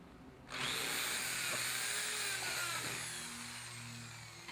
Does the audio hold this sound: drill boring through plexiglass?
yes